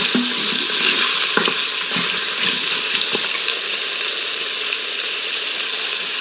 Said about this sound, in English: so while my sausage is cooking in there